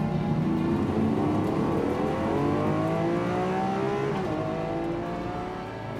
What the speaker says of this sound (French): Celui d'un V12 atmosphérique, à l'ancienne.